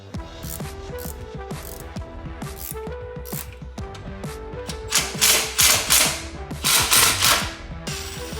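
Ratchet wrench working bolts on a C5 Corvette sway bar in a garage, a steady run of quick clicking pawl ticks that grows louder and busier toward the end, alongside rustling and metallic knocks.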